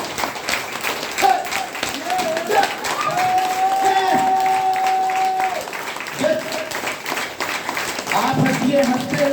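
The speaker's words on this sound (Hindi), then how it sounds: "ताली मारेंगे कि नहीं मारेंगे?" An audience at a health training program claps steadily throughout, a dense patter of applause with cheering voices on top, including a sustained call-like tone near the middle.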